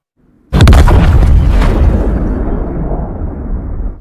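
A bomb goes off inside Rishi's house in a film scene, one huge sudden blast followed by a long, loud, rumbling roar that slowly fades over several seconds, with no voices.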